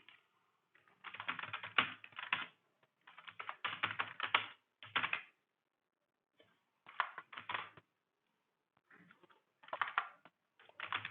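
Bursts of typing on a computer keyboard while entering title text in video editing software, close and clear, with several pauses between runs of keystrokes and no talking.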